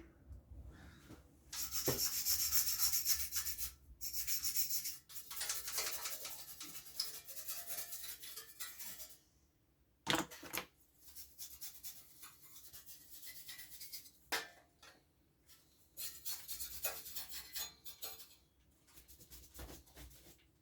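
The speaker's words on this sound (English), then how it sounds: "I like to just take an old toothbrush, just kind of scrub it." An old toothbrush's bristles scrub dust back and forth on a PS4 Pro's internal parts in bursts of rapid brushing, close up, with short pauses between strokes.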